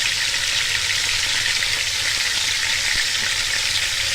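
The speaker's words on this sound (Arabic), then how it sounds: "نديها تشويحة كده يعني صدمة قبل ما نسلقها" Meat searing in ghee in a pan, seared before boiling, gives a loud, dense, constant sizzle with faint clinks of stirring underneath.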